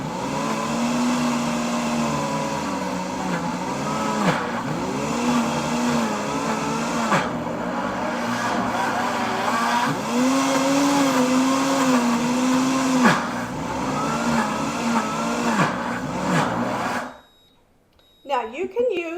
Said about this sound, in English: you can use a food processor, any kind of blender.